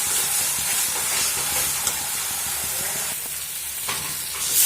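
Cumin and coriander powder masala with salt frying and being cooked down in a pan, a steady broadband sizzle and hiss throughout with a few faint scraping ticks, no voices.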